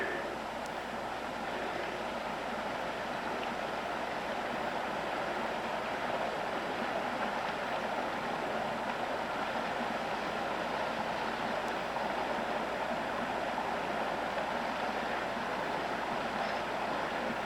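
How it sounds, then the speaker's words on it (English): Water rushes steadily through a sluice carrying gold concentrates from a test pocket at a Wyoming prospecting site, a continuous even wash with no pauses and no voices. "This is Matt running some of our concentrates down through the sluice"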